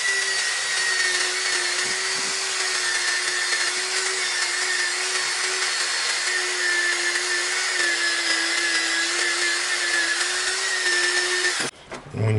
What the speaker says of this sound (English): Now we're gonna put wire brush